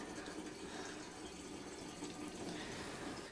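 Water poured steadily from a container into a 1980 Jeep Cherokee Chief, a continuous, fairly quiet gurgling rush that runs alone without a break.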